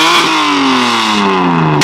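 A BMW E92 M3 engine revs loudly up close, a sharp rise followed by a long falling whine as the revs drop.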